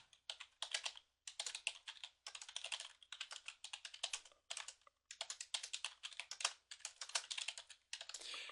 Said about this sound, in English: I'm going to type this and then I'm going to explain it.